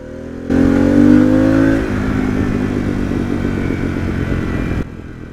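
A Harley-Davidson Pan America motorcycle engine revs up loudly in road mode, then settles into a steady, throbbing drone as the bike accelerates, with no one speaking.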